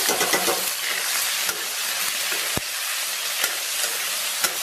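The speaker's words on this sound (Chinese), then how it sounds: "然后咱们把切好的肉末下到锅中，" Minced meat stir-frying in a wok with a little oil, a steady loud sizzle and hiss broken by scraping stirs and a few sharp spatula clacks against the pan.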